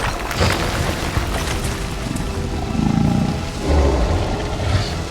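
A dragon in a Harry Potter video game roars and breathes fire amid the din of a fight, with deep rumbling roars and blasts swelling twice over constant loud background noise.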